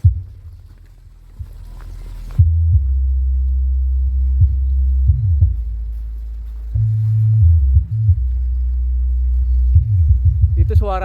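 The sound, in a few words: subwoofer bass heard from about 50 meters away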